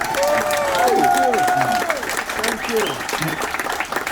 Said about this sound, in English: one more round of applause for all of our 10-timers tonight